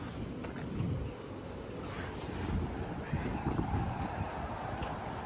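Strong gusting wind buffets the microphone in a steady broadband roar with louder surges, the kind of wind that tore roofs and walls off houses.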